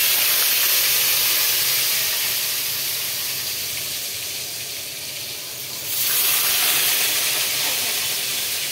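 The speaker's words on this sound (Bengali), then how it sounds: "এখন সবজিগুলো ফ্রাই করে নেব" Carrots and tomatoes, with cucumber and potato to follow, fry in a pan over spices, making a loud, continuous hissing sizzle that eases briefly midway before rising again.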